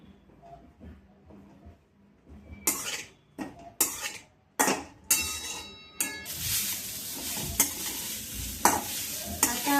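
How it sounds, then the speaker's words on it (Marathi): Grated carrots for carrot halwa are stirred in a pan, making a series of loud, crisp scraping and sizzling strokes that start after a quiet opening and grow denser and more continuous toward the end. "आता आपण गाजर टाकून घेऊयात आपण याला हलवून घेऊयात"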